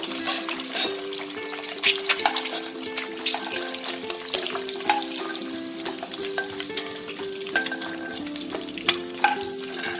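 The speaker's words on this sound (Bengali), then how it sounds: "এই ডিমটাকে আমি হালকা করে ভাজবো।" An egg fries lightly in oil in a pan, with a busy close-up sizzle and crackle, scraping stirs and a steady tonal backing underneath.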